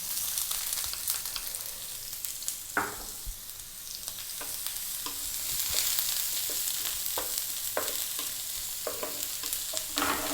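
Chopped onion frying with toasted garlic in a pan, a continuous close sizzle broken by repeated scraping and clinking strokes of a spatula as it is stirred, no talking.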